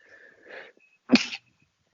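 A single sneeze, muffled and a little strained by a mouthpiece, preceded by a short breathy intake; quiet surroundings otherwise.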